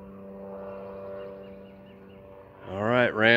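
Rans S12 light aircraft in flight, a steady tonal propeller and engine drone that rises and swells near the end, with a voice speaking over it.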